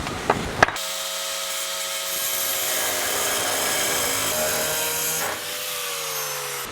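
Cutting broken body bolts flush on a 1949 Chevrolet frame, a steady harsh grinding rasp that runs continuously for several seconds, loud and close, after a couple of brief knocks at the start.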